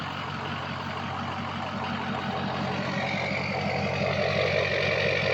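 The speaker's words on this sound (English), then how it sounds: "truck's running great, as you can hear." A truck engine idles steadily with a deep, rumbling exhaust pulse, loud and close, constant throughout with no voices.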